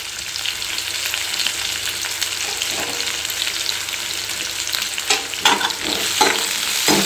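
Dried red chillies and onion sautéing in a pan for pulao, a loud, dense close sizzle with stirring scrapes that come in a few sharp bursts near the end.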